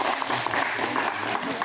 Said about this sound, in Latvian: Ovācijas!